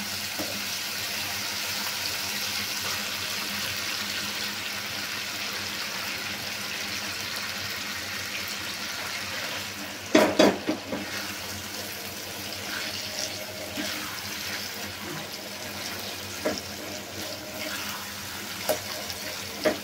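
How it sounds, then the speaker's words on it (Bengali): Taro greens poured into hot oil in a pan with fish, a steady hiss of frying and sizzling throughout, with a burst of clattering and louder crackle partway through. "এখন আমি শাকটা ঢেলে দিব"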